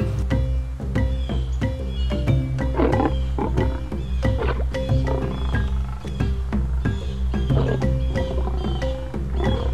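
A male lion roars repeatedly in the wild, deep rumbling calls rolling one after another, loud and close with no talking.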